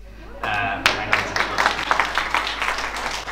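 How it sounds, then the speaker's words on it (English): An audience at a conference panel breaks into clapping, a burst of moderately loud applause that starts abruptly and continues as a scattered patter from a modest crowd. "But those claps are actually just shared with the rest of the panel."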